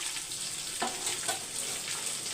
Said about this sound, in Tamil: சின்ன வெங்காயத்து கூடயே நான் போட்டு வதக்கிறேன்